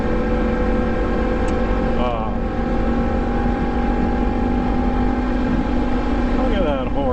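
A Yamaha MT10 motorcycle fitted with an Austin Racing exhaust, idling loud and close with a steady droning engine note and a couple of brief rising revs.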